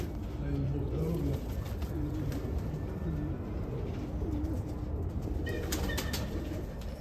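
Nikolaev crested shaggy pigeons in a loft in Kamianske, giving low throaty coos over steady background noise, with voices talking nearby.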